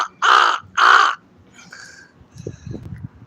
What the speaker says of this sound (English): There's two of my crow buddies sitting up there on the top by the window.